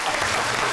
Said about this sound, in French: Public, est-ce qu'on peut applaudir encore,